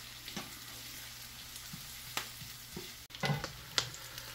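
Sliced onions frying in a pan while a simple snack is cooked, a quiet low sizzle with occasional stirring clinks and scrapes, close by, with no talking.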